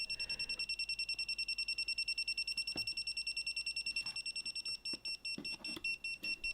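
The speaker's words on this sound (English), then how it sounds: "Touching the live turns the display red and causes a fast beep." A Kaiweets KTS02 voltage tester touching a live wire gives a rapid run of high electronic beeps that slows and breaks up toward the end, with some handling clicks and faint background noise and no speech.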